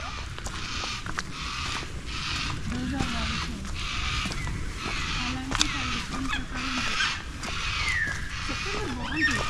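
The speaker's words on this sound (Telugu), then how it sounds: "చూసారా సైలెంట్గా వినండి, చక్కగా ఉన్నాయి బర్డ్స్." Birds call sporadically along a bush walking track in Western Australia, faint under steady broadband noise from insects or wind; short chirps and warbles come and go without talk.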